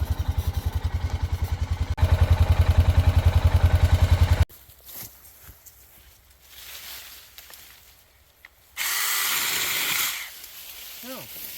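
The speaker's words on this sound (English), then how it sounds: "I see a perfect use for this mini chainsaw approaching ahead." A Saker mini chainsaw buzzes with a fast, rapid-fire engine putter, rising into a harder cutting drone as it bites into a stick outdoors on a trail, then stops; rustling and a brief loud burst of handling noise follow.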